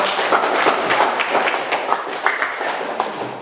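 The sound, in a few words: applause for the group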